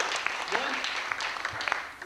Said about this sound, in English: I want some applause for that one.